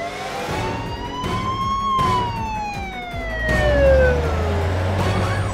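Police motorcade sirens wail as the procession arrives outside a restaurant after a long drive, several sirens sweeping down in pitch at once over a rumble of engines that swells as the vehicles draw near.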